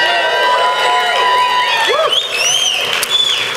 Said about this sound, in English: I want hoots and hollers, all right?